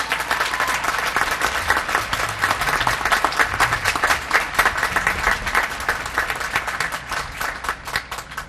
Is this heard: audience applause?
yes